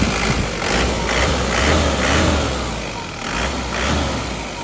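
A warmed-up 2005 Isuzu Panther LS Turbo diesel engine runs steadily, a continuous close engine drone with low rumble and gentle swells in level throughout, no voices over it.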